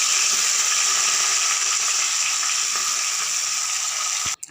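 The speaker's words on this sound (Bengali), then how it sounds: "এখন তেলে ভাজতে বসিয়ে দেব।" Boiled cabbage pieces fry in hot oil in a pan, giving a steady, loud sizzle with a faint watery crackle, alone and continuous until a brief break at the very end.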